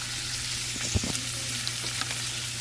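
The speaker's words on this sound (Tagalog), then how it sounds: "lagyan na natin ng toyo" Pork and string beans fry in a pan as soy sauce goes in, giving a steady crackling sizzle with a few soft knocks of a utensil against the pan.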